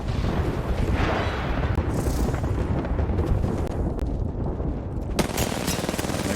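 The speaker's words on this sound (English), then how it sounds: "They throw the creeping barrage down and they move." Continuous heavy artillery barrage rumbles through a match of Apex Legends at a competitive ALGS tournament, a dense wall of overlapping explosions and blasts with a sharp crack near the end.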